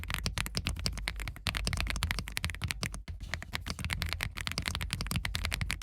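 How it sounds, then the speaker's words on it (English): Fast, continuous typing on an Owla mechanical gaming keyboard, each keystroke a crisp clack in a dense, near rhythm with one brief gap, no talk. "So let's do the most important part of this test, the typing test."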